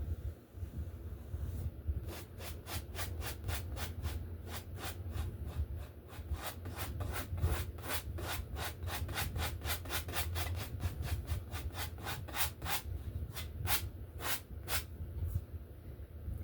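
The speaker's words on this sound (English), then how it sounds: "Scrape all that excess paint off." Excess oil paint is scraped off a landscape painting in a rapid run of short, dry rasping strokes, close and fairly quiet, with no talk.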